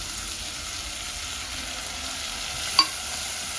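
Red and yellow bell peppers being stir-fried with garlic in a pan, a soft continuous sizzle with a brief clink or scrape near the end, fairly quiet and with no voices.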